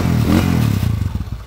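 A motorcycle engine runs close by, a loud low rumble that settles into a pulsing idle as it fades out over a second or so.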